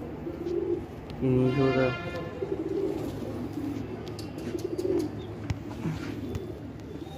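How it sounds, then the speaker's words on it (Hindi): Pigeon cooing on a rooftop in a short run of low, rounded, throbbing calls, fairly faint and close, with a voice speaking briefly and scattered background noise. "ये देखिए ये कबूतर"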